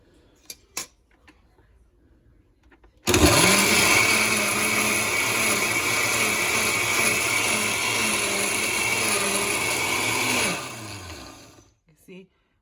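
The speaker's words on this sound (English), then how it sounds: "For right now, we're just gonna put the lid and we just blend" A kitchen blender runs with its lid on, blending pozole ingredients: a loud, steady motor whir that starts abruptly, holds for about seven seconds, then winds down, with faint clicks before and after.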